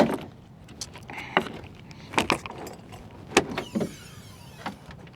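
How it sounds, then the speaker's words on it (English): Hood of a Baja twin turbo Hummer being opened, with clicks, latch clunks and metallic rattles in several irregular bursts, close and fairly loud, no speech. "I'll pop the hood and you can take a look at it."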